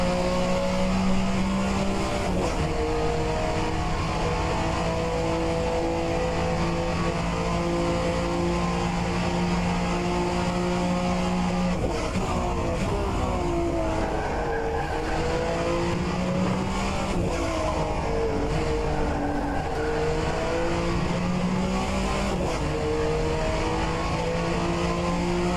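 Group C sportscar race cars lapping NOLA Motorsports Park, a continuous loud engine drone with harmonic pitch that rises and falls as cars accelerate, shift and pass, with no voices.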